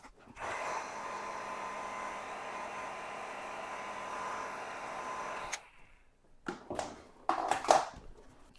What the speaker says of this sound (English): I'm going to hit it with the heat gun for about 20-30 seconds.